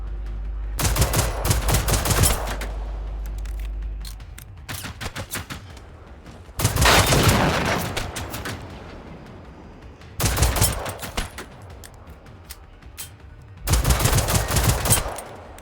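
Automatic weapon fire in the video game Generation Zero, four loud bursts of rapid shots, each lasting a couple of seconds, separated by quieter gaps with scattered single cracks.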